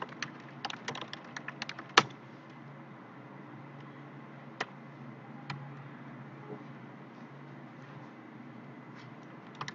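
Someone types product-listing text on a computer keyboard, a quiet close run of light key clicks, busier at the start with one sharp louder tap, then sparser strokes over a faint background hum.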